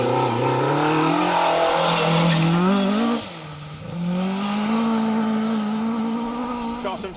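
A historic 1800 Mark II race car driven by Andrew Hill and Matthew Fowle accelerates past, its engine note rising loud and close, dipping briefly, then climbing again through the gears as it carries on.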